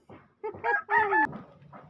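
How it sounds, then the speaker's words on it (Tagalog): A rooster crows at a rural home, one clear, drawn-out cock-a-doodle-doo rising and breaking off, close and fairly loud, with brief clucks around it. "ang aking background, ang aking manok"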